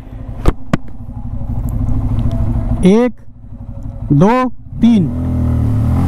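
Bajaj Pulsar N250 motorcycle revving and accelerating hard in a 0-60 run, three rising engine sweeps through the gears over steady road and engine noise, with a voice counting along.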